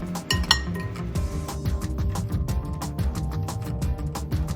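Crushed garlic being stirred into wonton filling in a bowl gives a steady run of close clinks and scrapes of a utensil against the bowl, continuous and fairly loud with no voices.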